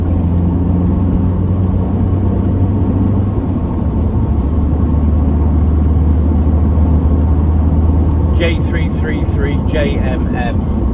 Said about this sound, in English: he's accelerating quite hard